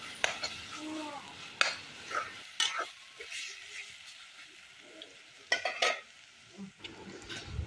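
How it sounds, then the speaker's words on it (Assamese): A utensil scrapes and stirs red gourd leaves with salt and turmeric in a frying pan, making irregular clanks and scrapes over a soft sizzle, with quiet speech now and then. "এতিয়া এইখিনি ভালধৰণে লৰাই ল'ব লাগিব ভালধৰণে লৰাই লৰাই ভাজি থাকিম"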